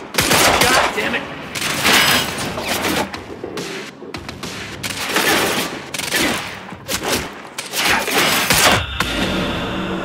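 Gunfire fills a firefight in the video game Quantum Break, with loud bursts and rapid volleys coming in waves, broken by brief gaps, while voices shout over the shooting.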